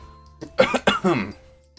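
A voice actor imitates a fit of coughing in a rapid series of harsh bursts, close and fairly quiet, set in a Higurashi no Naku Koro ni Watanagashi visual novel.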